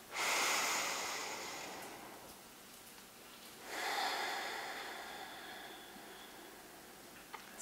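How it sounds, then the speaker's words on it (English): Slow, deep breaths during an intermediate yoga flow: a long airy exhale, a pause, then another long breath, close and soft with no talking. "we'll just take a few deep breaths here, just trying to slow down the breathing."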